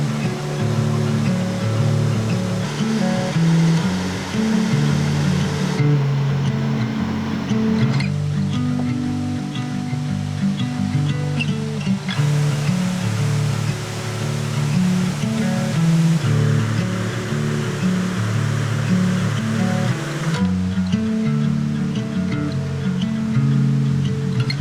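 Steady roaring rush of waterfalls in the Columbia River Gorge, a continuous broadband wash of falling water heard close and loud throughout, with no voices.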